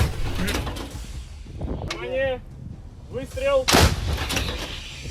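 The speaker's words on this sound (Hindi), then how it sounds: "रूस की कौन कौन सी तोपें इस वक्त गरज रही हैं" Heavy Russian artillery, including 2S19 howitzers, booms out in deep, rolling blasts, several shots spaced a second or two apart, with echoing rumble trailing each one.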